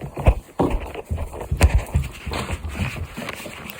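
A small dog pants quickly and rhythmically at close range, with rustling and soft thumps around it and no talking.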